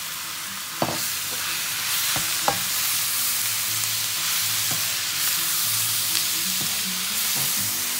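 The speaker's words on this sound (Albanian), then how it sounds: "I lam në zjarë mishin e grirë dhe qepën të skuqen" Minced meat and softened onion sizzle steadily in a hot pan for a moussaka base, with a few sharp clicks and scrapes of stirring over the continuous frying hiss.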